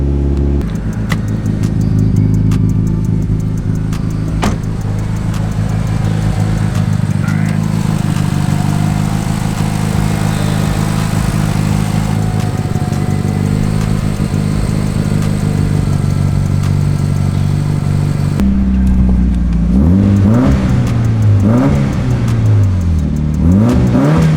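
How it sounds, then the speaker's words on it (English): A built Mitsubishi Evo 8 pickup's engine runs loud and close, holding a steady rough idle before climbing into a few revving swells toward the end, with no voices over it. "So the Evo runs"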